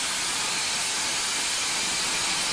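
Antique steam engine pistons hiss continuously at a museum of old engines near San Diego, a steady, broad rushing of steam that fills the space without pause or variation.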